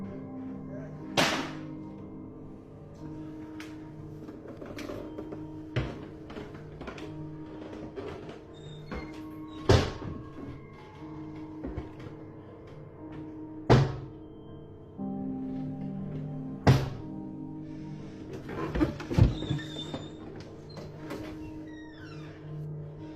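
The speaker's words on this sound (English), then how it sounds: "The door starts opening and closing on its own" An upstairs door opens and closes on its own, giving several sharp knocks and thuds scattered across a steady low hum, some louder and nearer than others.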